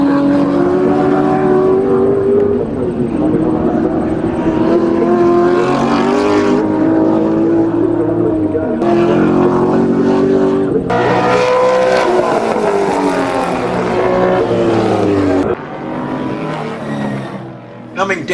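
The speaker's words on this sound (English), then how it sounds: "Coming down the hill on lap 3, Pete draws near under brakes." Historic race cars lapping a hill circuit in the Blue Mountains, loud engines revving and shifting up and down as cars pass close, with a commentator talking over the roar.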